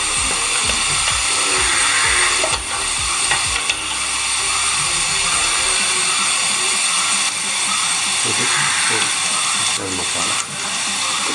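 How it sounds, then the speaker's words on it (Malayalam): Prawns sauté in a hot pan with curry leaves and turmeric, a loud continuous sizzle broken by stirring scrapes and clatters close up, with a voice talking over it. "നല്ലോണം വഴറ്റി കൊടുക്കണം കേട്ടോ."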